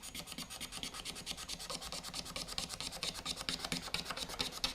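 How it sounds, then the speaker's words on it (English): A box cutter blade scrapes dried super glue from between guitar frets in quick, regular back-and-forth rasping strokes, close and clear, with no talking. "I'm going to clean up the super glue in between the frets"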